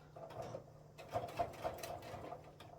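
A home sewing machine stitches thick fabric for a laptop sleeve in short, steady mechanical whirring runs, fairly quiet and close, with a low hum underneath and nobody talking.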